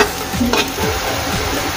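Three ingredients sautéing in a pan as the base for a mussels dish, a steady close sizzle with a few soft stirring scrapes.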